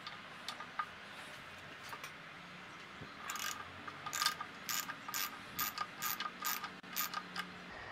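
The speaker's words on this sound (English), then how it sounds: "On the right side of the bike, we're just going to loosen this pinch bolt here." A ratchet wrench clicks as it loosens the front wheel pinch bolt on a Kawasaki KZ650 CSR motorcycle, with sparse ticks at first, then a quicker run of sharp, close clicks in uneven bursts.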